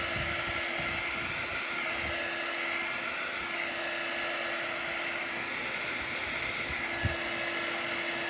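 A blow dryer runs nearby with a steady, even whirring drone and a constant whine, drying paint on a doormat, uninterrupted throughout.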